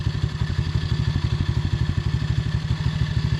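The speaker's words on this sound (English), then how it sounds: "Now she's idling a little low." A cheap Chinese 110cc ATV engine idling a little low with the choke on, a steady fast putter of close, even thumps with a mechanical clatter on top, no voices.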